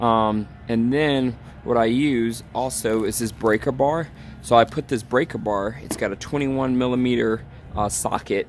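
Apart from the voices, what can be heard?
No distinct noise like a dog, phone or traffic.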